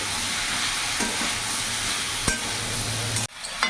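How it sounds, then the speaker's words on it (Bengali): Malabar spinach and green chillies being stirred in a frying pan with a steady sizzle, a couple of soft scraping knocks from the utensil and a sharp clack near the end. "এবার ভালো করে একসাথে সব মিশিয়ে নেব"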